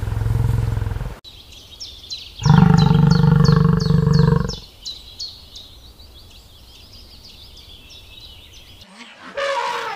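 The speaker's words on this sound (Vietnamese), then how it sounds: "Con voi." An elephant lets out a loud, rough trumpeting call lasting about two seconds, followed by a long stretch of quieter rhythmic chirping and rumbling, with a short louder burst near the end.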